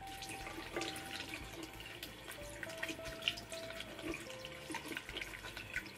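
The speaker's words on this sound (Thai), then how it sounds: "อย่าลืมล้างตลับสายคอนแทคเลนส์ค่ะ" Water running from a tap to rinse a contact lens case, a steady close splashing flow with faint dripping and small shifts in tone as the case is moved under the stream.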